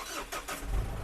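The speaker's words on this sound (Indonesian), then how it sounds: "Aku coba hidupin mesinnya dari sini." The diesel engine of a Nissan Dakar VGT with high mileage cranks and catches, a short rumbling start that settles into a low, steady running sound.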